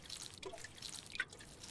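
Plants being watered in the game Grimshire, heard as a couple of faint, quick water drips against a quiet background.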